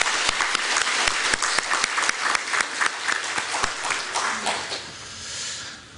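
Church congregation applauding the choir, many hands clapping in a fairly close, sharp burst that thins out and fades over the last second.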